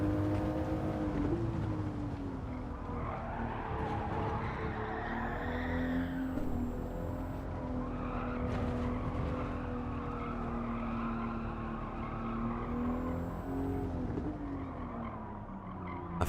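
Racing car in a racing video game accelerating out of corners, with the engine note climbing and dropping through gear changes and tires squealing, loud and continuous.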